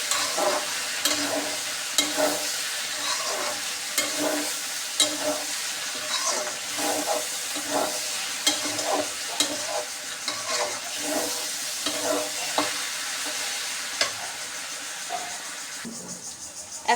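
Okra fries in oil in a pan, with a loud, continuous sizzle and hiss that is stirred in a steady rhythm of scraping strokes roughly every half second throughout.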